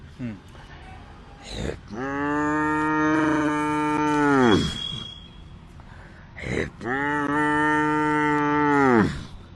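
A man imitates a cow, giving two long, drawn-out moos separated by a short pause, loud and close.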